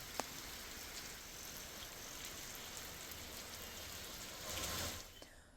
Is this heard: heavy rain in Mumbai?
yes